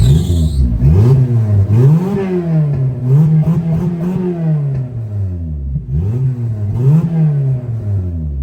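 A K24 AWD turbo car engine at working temperature revs repeatedly, rising and falling in several loud blips that rev up and drop back, close by with no talking.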